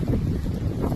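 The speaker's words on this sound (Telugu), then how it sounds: "గాలి అయితే మస్తు." Wind buffets the microphone in a steady low roar, gusting unevenly over a short moment.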